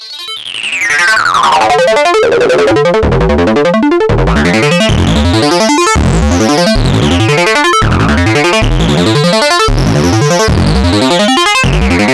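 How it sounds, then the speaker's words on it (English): A loud, distorted synth line from a Korg Nu:Tekt NTS-1 mkII, with sweeping high-resonance filter squelches, repeating acid-style notes rising and falling continuously without any voice. "I really like using the distortion with high resonance, get a nice acid squelch."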